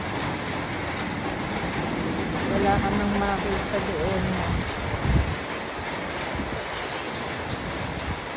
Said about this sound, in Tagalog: May bagyo, may bagyo. Ang lakas ng hangin, no?